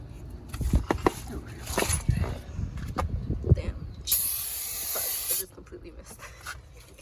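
Clattering and handling noises with voices during a brake job, then a loud aerosol spray on the brakes hisses for about a second before cutting off.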